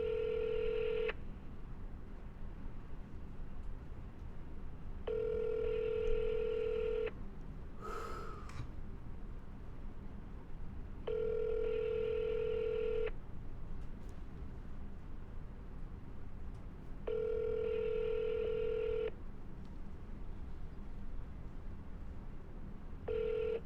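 A cell phone call plays out alone: dialing tones, then four evenly spaced ringback tones of about two seconds each, with a brief breath or snort between the first rings.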